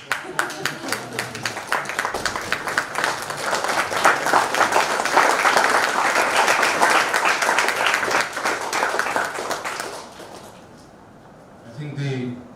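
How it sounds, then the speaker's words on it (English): A seated audience at a personal branding talk claps in a loud, dense burst that holds for about ten seconds, then fades, followed by a few faint sounds near the end. "applause he got is enough to introduce him"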